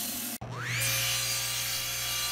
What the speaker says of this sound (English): I'll do some light sanding to clean up some of those scratch marks since I'm not very good at the lathe.